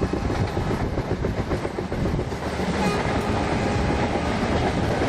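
A Darjeeling Mail train hauled by a WDP4B locomotive rolls out of Sealdah in the MSTS RailIndia simulator, with loud continuous wheel rumble and rhythmic track clatter throughout, close by and with no talking.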